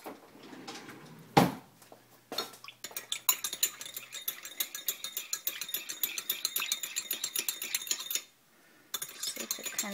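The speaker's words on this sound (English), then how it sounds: "I'm going to grab a spoon and just kind of mix it" A spoon scrapes and clinks steadily against a container, stirring skin cream mixed with a few drops of lavender. The strokes come close and rapid, after a few louder knocks, and stop briefly near the end.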